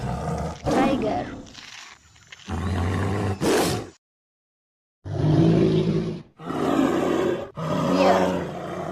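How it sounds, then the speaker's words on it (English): A bear gives deep, rough roars in several loud, close bursts, separated by a short stretch of near silence. "bear,"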